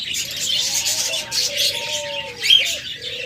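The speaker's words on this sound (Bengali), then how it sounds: "তাছাড়া রয়েছে হিউজ পরিমাণ লাভ বার্ড" Caged birds for sale at a market, including lovebirds, cockatiels, budgerigars and doves, give a steady mass of high chirps and tweets with a few dove-like coos, continuous and fairly close, with no talk.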